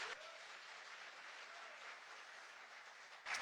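An audience applauds at a speech event on retirement and financial independence, giving steady, dense clapping that holds for the full stretch at a moderate distance.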